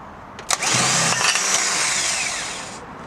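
A new starter motor cranks a Porsche 924 engine after a sharp click, whirring steadily for about two seconds before fading; the sound is fairly near, with no talking.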